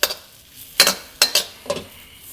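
Egg fried rice tossed in a pan on the stove, giving three or four quick scraping, sizzling swishes spaced about half a second apart, close and fairly loud with no voices.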